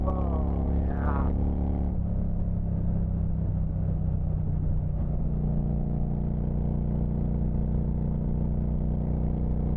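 A Harley motorcycle with a worn fourth-gear synchro rumbles loudly and continuously while riding, its engine note shifting as it changes gear early on and then settling into a steady drone.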